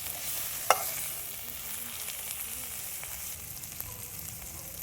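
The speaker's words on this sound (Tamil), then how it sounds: "இதை நல்லா இப்படிக்கா ஒரு பெரட்டு அப்படிக்கா ஒரு பெரட்டு பெரட்டி நல்லா பச்சை வாசம் போகிற வரைக்கும் நல்லா வதக்கிடலாம்" Masala for a Maharaja chicken curry is sautéed in a pan, a soft, steady sizzle with faint scraping as it is stirred, one sharper clack of the spoon early on, no talk over it.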